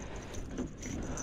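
A short, close jangle and click of keys unlocking a truck door on a cold morning, brief and metallic over a low background hum.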